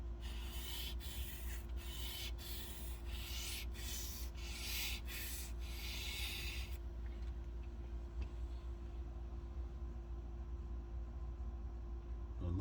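Knife blade being sharpened on an EdgePro Apex stone, cutting a new back bevel: about eight quick rhythmic rasping strokes close up, then the scraping stops and only a low steady hum remains.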